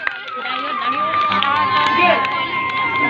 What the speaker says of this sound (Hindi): सभी लोग जोरदार ताली बजाएंगे बच्चों के लिए जोरदार ताली